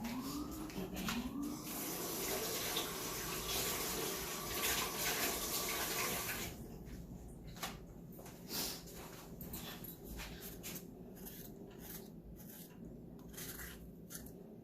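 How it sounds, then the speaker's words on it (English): Food for curry goat is rinsed under a running kitchen tap, a steady broadband rush of water for about six seconds, then stopping, leaving quieter clatter and handling sounds. "I don't remember washing this off, so what I'm going to do, I'm going to go and wash it."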